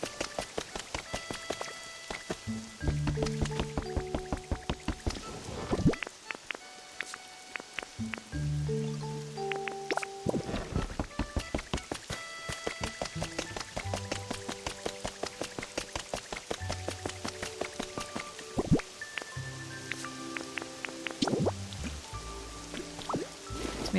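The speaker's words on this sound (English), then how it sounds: "The sound of the rain in this game" Rain dripping and pattering in the video game Pokémon Pokopia, a steady stream of small droplet taps scattered over soft musical tones, moderately quiet and continuous with no voices.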